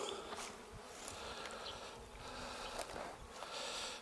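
Honeybees buzzing around a hive entrance as foragers return carrying pollen loads, a steady dense drone with individual bees whizzing close past, no talking.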